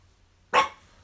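A single short dog bark rings out after a brief silence, fairly close and loud.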